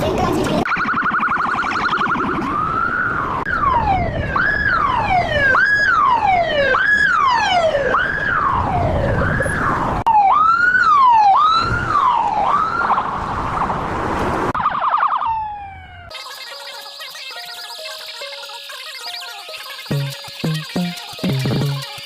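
An ambulance siren wails close and loud in repeated rising and falling sweeps, then gives way to a different harsher stepped siren pattern near the end.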